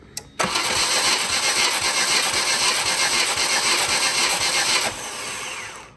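A MINI Cooper engine cranks on the starter during a compression test, a loud continuous rhythmic churning that stops abruptly after about four and a half seconds.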